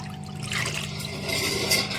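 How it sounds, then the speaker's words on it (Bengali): Milk pours into a kadai with a steady liquid splash that begins about half a second in and runs on at moderate level, close by, with no talking. "কড়ার মধ্যে দুধটাকে ঢেলে দেব।"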